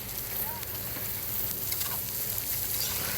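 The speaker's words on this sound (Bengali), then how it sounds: "মশলা ফ্রাই করতেছে" Spices fry in a pan for a village-style fish fry, giving a continuous close sizzle and crackle throughout with no talking.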